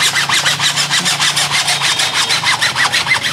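Steady back-and-forth hand sawing through a water well pipe, rapid regular strokes with a rasping, scraping texture, close and fairly loud, no voices.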